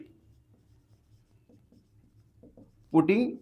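Pen writing out a polynomial math solution by hand on paper, a faint, soft scratching in short strokes, followed by a voice starting to speak near the end.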